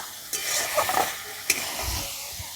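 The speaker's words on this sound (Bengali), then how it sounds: "মশলাটা কষাতে থাক" Masala spice paste fries in a pan while a spoon stirs it, a soft sizzle under a few sharp scraping and tapping strokes, fairly quiet and close, with no voices.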